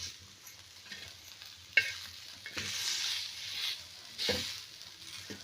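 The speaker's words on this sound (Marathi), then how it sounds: "कांदा आणि मिरच्या चांगल्या व्यवस्थित परतून द्यायचे आहे" Onions and chilies sizzle in a hot pan over a wood-fired stove, with soft bursts of frying and the scrape of a spoon stirring them now and then.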